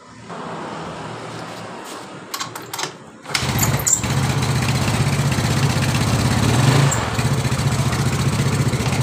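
A Yamaha Mio Sporty scooter with a loose intake manifold bolt cranks over, catches after a few attempts and settles into a steady, close, buzzing idle that holds on alone.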